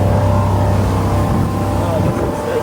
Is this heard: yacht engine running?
yes